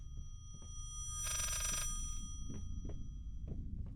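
An old telephone rings once inside the psychological horror game Layers of Fear, a bright metallic bell burst lasting about half a second over a low, throbbing heartbeat-like ambience with scattered dull thumps.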